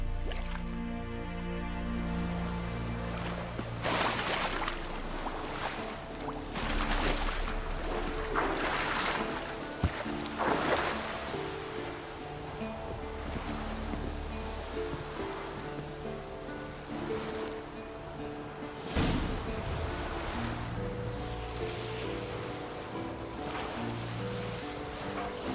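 Small leaky wooden boat crossing a lake in The Witcher 3, with steady lapping water and sloshing waves around the hull, faint and continuous, alongside scattered drips.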